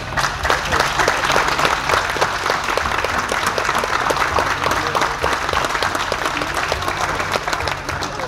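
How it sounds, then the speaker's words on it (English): At the Hmong Wausau Festival in 2018, a large crowd gives veterans a steady, loud round of applause, dense clapping that holds evenly throughout without letting up. "let's give any of our veterans a great round of applause"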